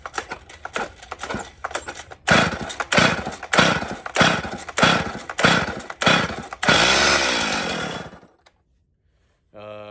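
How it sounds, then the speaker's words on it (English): Someone repeatedly yanks the pull cord of a Stihl MS 170 chainsaw with the choke on, making a series of loud, rhythmic rasping pulls up close. The engine then catches and roars briefly before cutting out into silence. "All right, we're gonna give her some pulls."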